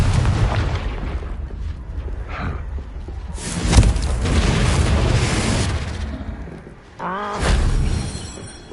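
Spell blasts from Confringo cast in the Hogwarts Legacy video game, a series of loud booming explosions with a sharp peak near the middle, layered over rumbling game sound and music.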